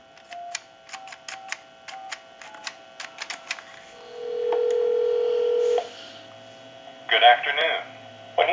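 A rapid series of touch-tone beeps dials a number on a Trimline wall telephone over a faint hum, followed by a steady tone, then a brief voice near the end.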